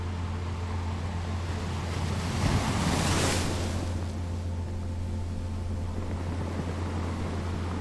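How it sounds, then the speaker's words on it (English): Gentle ocean waves wash onto a beach in a steady, enveloping roar with soft wind noise, one swell rising and easing in the middle, with no voices. "As you watch the gentle waves roll in and out,"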